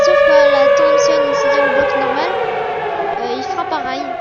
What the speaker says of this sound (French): il y a le bruit de la sirène